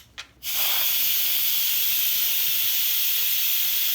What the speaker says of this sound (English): Okay, I'm going to let the steam out.